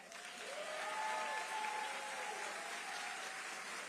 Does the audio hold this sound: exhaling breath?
no